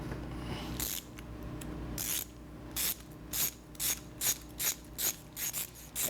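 A ratchet loosens a tool used to true ovalized wheels, with rapid clicking bursts that turn into a regular series of about ten close, crisp clicks.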